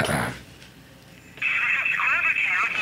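A phone line rings out after a number is dialed, a steady electronic ringback tone starting partway through and continuing to the end, close and clear, following a brief burst of sound at the start.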